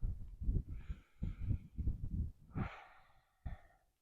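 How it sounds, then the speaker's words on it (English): A person takes slow, deep breaths during yoga practice, with several rhythmic airy inhales and exhales close to the microphone, ending in a long sighing breath. "Try 3 deep breaths here."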